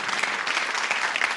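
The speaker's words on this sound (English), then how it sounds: "Give them a nice round of applause." A television game-show studio audience breaks into applause, a brief, bright burst of many hands clapping, steady and moderately loud with no talk over it.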